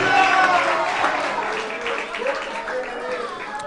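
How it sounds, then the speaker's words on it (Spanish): A church congregation in Bonaire applauding during a worship service, with crowd clapping and cheering blended under a loud voice speaking Spanish over it. "Dale el aplauso al Cristo de la gloria."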